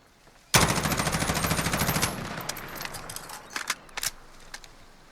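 An M16A4 rifle fires on full auto in Call of Duty Modern Warfare, sending out a sudden, loud, rapid burst of about a second and a half. A few sharp mechanical clicks and handling sounds follow.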